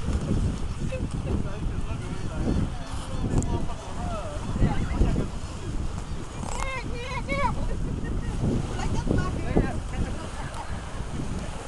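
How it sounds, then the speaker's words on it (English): A boat out on the ocean off Biloxi, Mississippi, with steady rushing wind buffeting the microphone and engine and water noise beneath, as someone talks excitedly over it throughout. "I'm on the ocean."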